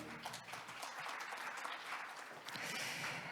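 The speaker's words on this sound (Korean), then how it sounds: "다시 한번 큰 박수를 부탁드립니다." Audience applause at a conference, a dense burst of clapping from a large crowd that holds steady for a few seconds.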